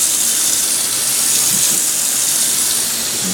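Water runs steadily through a newly replumbed sink drain, a loud, even hissing rush close to the microphone that never lets up, with no voices.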